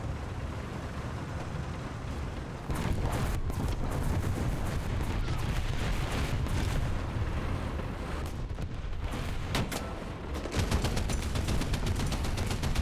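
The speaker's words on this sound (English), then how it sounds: "God, there's so much artillery in this area." Heavy artillery fire in War Thunder booms almost nonstop, dense overlapping blasts and rumbling impacts filling the soundscape, loud and continuous with sharper cracks breaking through now and then.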